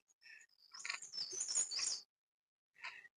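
Tiny birds in a morning forest in the hills around Pauri chirp in quick high twittering calls, a dense run of overlapping tweets followed by a pause and one short final burst; fairly faint and distant, no voices.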